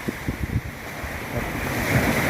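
Sea waves wash onto Phayun beach in Ban Chang, Rayong, Thailand, a continuous surf roar with strong wind buffeting the microphone and a few low thumps early on.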